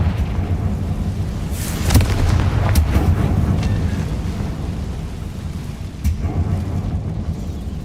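The Confringo spell blast in a Harry Potter video game, a deep booming burst over a dense, rumbling roar of battle noise with a few sharp cracks scattered through it.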